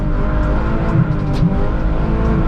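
Wheels of a Honda spin without grip on a rain-soaked road, the engine droning loud and steady at high revs with faint whines and hiss over the top.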